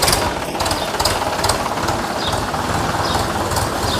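A tractor engine runs steadily on a groundnut farm, a loud, continuous low rumble with a knocking, chugging texture throughout, close by and without talk.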